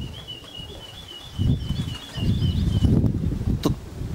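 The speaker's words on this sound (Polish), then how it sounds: "Pojawił się pierwszy gołąb." A racing pigeon arrives at its loft in a low, close burst of wing flapping that flutters for a few seconds, with a thin high chirping or whistle running above it throughout.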